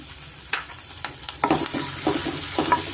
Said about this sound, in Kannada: ಸ್ವಲ್ಪ ನಾವು ಎಣ್ಣೆನ ಫ್ರೈ ಮಾಡಿದ ತಕ್ಷಣ ಇದಕ್ಕೆ ಈಗ ನಾನು ಶುಂಠಿ ತುರಿ ಮತ್ತು ಹಸಿಮೆಣ್ಸಿನ್ಕಾಯಿ ಒಂದು ಎರಡು ತೊಗೊಂಡಿದ್ದೀನಿ